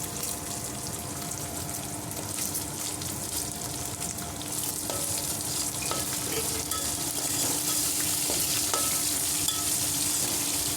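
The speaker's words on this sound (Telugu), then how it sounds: "బాగా ఫ్రై చేసుకుందాము. ఇందులోనే కొంచెం కాజు వేసుకుందామండి." Cashews frying with black pepper in a pan for sambar rice, a steady close sizzle with occasional stirring scrapes and clinks running throughout.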